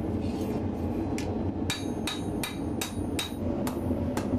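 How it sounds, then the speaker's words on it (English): Hammer striking hot metal while forging a knife, a steady series of about ten sharp ringing blows at an even rhythm, close and loud over a constant forge roar. "I'm hammering back toward my belt buckle."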